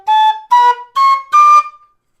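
An MK Pro tin whistle played in its second octave on G, sounding four clear, breath-pushed notes in a row, each steady and slightly rising in pitch, close and loud with brief gaps between them.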